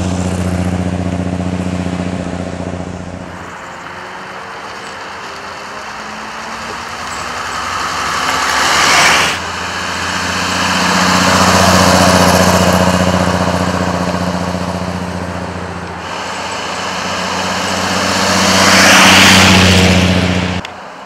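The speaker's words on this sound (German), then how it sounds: "laufruhigen reinen Sechszylindermotor." A Bentley 3 1/2 Litre's smooth straight-six engine hums steadily at idle with a deep, smooth drone, swelling gently in a few slow revving waves over its length.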